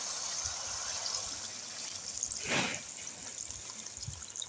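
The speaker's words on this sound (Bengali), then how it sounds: "এবার আমি জল দিয়ে দেব।" Water is poured into chicken kosha with potatoes in a pan, giving a soft continuous trickle with a brief louder splash in the middle, faint and close.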